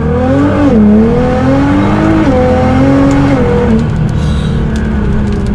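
A loud sports car engine in race mode with exhaust valves open roars through hard acceleration, its pitch rising and dropping with quick gear changes, close and aggressive.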